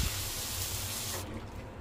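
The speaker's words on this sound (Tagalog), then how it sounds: "1 tasa ng tubig." Water is poured steadily into a pan of Filipino pork adobo for about a second, a continuous splashing hiss that cuts off near the end.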